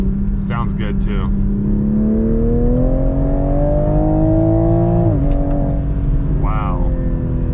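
A 2021 Toyota GR Supra 3.0 accelerating hard from inside the cabin, its engine note climbing steadily through a gear before a shift and another pull, loud and close, with brief exclamations from the driver over it.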